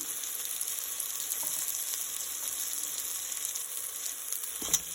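Chopped mushrooms sizzle steadily in a hot pan of biryani base, a soft continuous frying hiss with a faint clink near the end, no talking.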